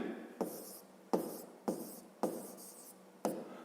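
A pen or chalk writes out a fifth-grade math problem solution in six distinct stroke bursts, each a sharp start trailing into scratchy rubbing, quiet and close, with no voices.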